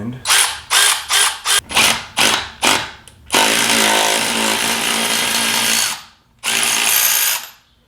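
Borrowed power tool working a car wheel lug nut while installing new wheels on an SC400: several short loud bursts in quick succession, then a longer sustained whir, a brief stop and another burst, close up with no talk.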